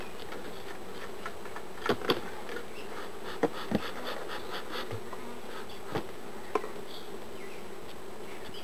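Honey bees of the Minnesota Hygienic strain buzzing softly and steadily around an open hive during a midsummer inspection, with scattered faint ticks and taps from the hive work.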